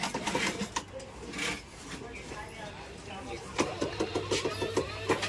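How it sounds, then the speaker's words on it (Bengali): A bag sewing machine runs in bursts, its rapid mechanical chatter growing denser and more rhythmic toward the end, heard close up beneath ongoing talk. "এই যে মেশিন দিয়ে কিন্তু সেলাই করানো হয়।"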